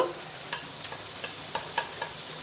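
Green chillies fry in a little oil in a pan, giving a steady soft sizzle punctuated by a few light stirring scrapes, close by with no talking.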